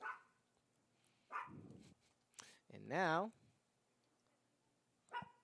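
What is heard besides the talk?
dog barking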